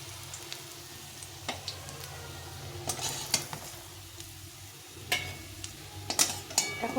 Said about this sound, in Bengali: এইভাবে করে আমি দুপাশে ভালো করে ভেজে নেব